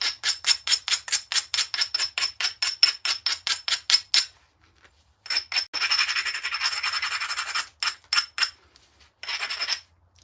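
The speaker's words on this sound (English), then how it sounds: "I'm going to abrade with this abrasive stone." A stone tool is abraded with an abrasive stone in rapid, regular rasping strokes, then a longer continuous grind and a few scattered scrapes, close and crisp with quiet gaps between bursts.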